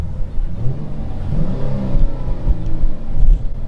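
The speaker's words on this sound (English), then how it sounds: "Let's rev it a little bit," A 2022 Dodge Charger GT engine revs steadily while parked, a loud, continuous rumble rising and holding with no talking over it.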